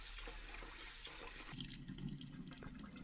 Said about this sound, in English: So as usual, wash the rice,